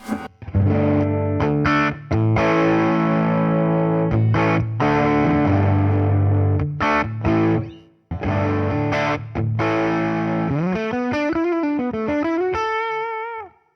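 Heavily distorted electric guitar chords through a cranked Fender Tone Master Deluxe Reverb amp with no reverb ring out loud and sustained, broken by brief stops, ending with wavering bent notes.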